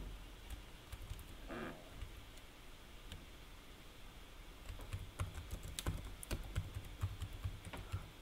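Typing a line of C++ code on a computer keyboard: soft, irregular key taps that grow busier and more rhythmic toward the end, heard close over a faint hiss with no talking.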